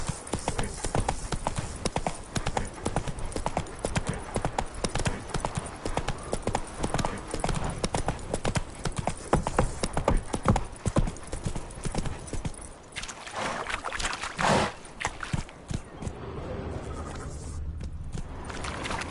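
Roach the horse gallops in The Witcher 3, hooves clip-clopping in a steady fast rhythm close up, with occasional snorts and a brief whinny over game ambience.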